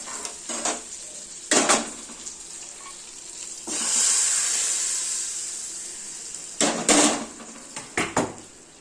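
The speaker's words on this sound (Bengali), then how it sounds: "সমস্ত মশলাগুলো কষানো হয়ে গেছে এবার এই মশলাগুলো ডালের মধ্যে দিয়ে দেবো" Sautéed spices tipped into a pot of cooked lentils (dal) set off a loud, sustained sizzle, with clinks and scrapes of a metal spoon against the pan before and after, close up with no talking.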